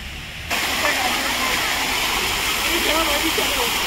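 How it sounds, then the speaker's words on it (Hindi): Water fountains splash steadily in NTR Garden, Hyderabad, a continuous broadband rush of falling water that swells in just after the start and holds at a loud, even level, with faint voices in the background. "यहाँ पे देख सकते हैं कि काफ़ी पानी के फवारे यहाँ पे बने हुए हैं।"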